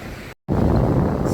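Ocean waves wash in at odd angles onto the shell-strewn shore at Bean Point on Anna Maria Island, Florida, a steady rushing wash mixed with wind buffeting the microphone, briefly cut out near the start.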